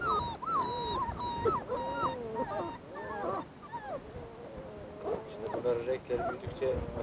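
A litter of eight large-breed puppies whimpering and yipping with high, wavering cries, some overlapping, close by, while a person talks intermittently underneath.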